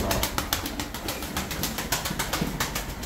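Feleksiz tumbler pigeons cooing in a loft, soft repeated coos running steadily under a busy, noisy background throughout.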